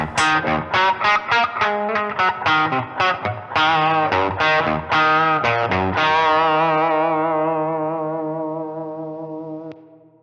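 A loud, saturated Gibson electric guitar lead with '50s-style wiring plays a run of quick picked notes, then holds a final chord that rings out and slowly fades.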